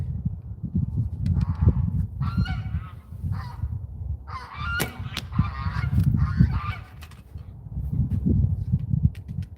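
Geese honk repeatedly in bursts over a low rumbling background in South Dakota, fairly close, with several birds calling over one another.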